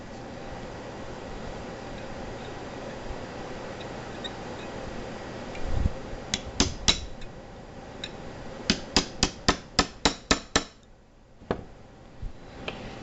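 A hammer lightly taps a 1/8 punch into a Bodyguard 380 pistol, first two soft knocks, then a fast run of about ten sharp close ticks and a few spaced taps at the end, over quiet room noise.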